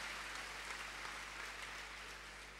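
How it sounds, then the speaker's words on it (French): A congregation claps in church, producing a faint, steady wash of applause over a low hum, lasting a couple of seconds. "Put your hands together for Jesus."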